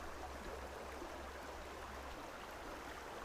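Fast creek water runs through a riffle at the top of a trout pool, a constant broadband rushing hiss, steady and close with no voices.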